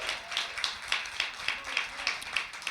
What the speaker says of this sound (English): Y'all can applaud that if you want to.